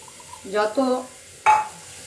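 Boiled noodles go into a hot pan for vegetable chow mein, giving a short stir-fry clatter and sizzle, a pause, then a second sharper burst of sizzling toss, close and fairly loud.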